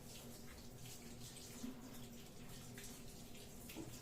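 Dishes are washed under a kitchen tap, with water running steadily and faintly throughout and small splashes now and then.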